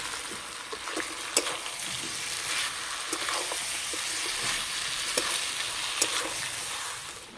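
Fried potatoes go into a pan of chicken curry and sizzle steadily, with a loud continuous frying hiss and occasional sharper pops and stirring scrapes, close up and with no talking.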